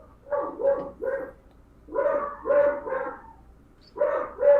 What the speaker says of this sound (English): Sorry, my dogs are like freaking out.